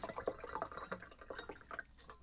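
Water pours into a cup with quiet trickling and splashing, faint and close, with no voices.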